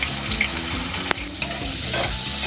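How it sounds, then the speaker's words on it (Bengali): Loud, dense crackling sizzle of potatoes frying, with a few sharp clicks of stirring against the pan, continuous and close. "এখন আলু ভাজা হচ্ছে।"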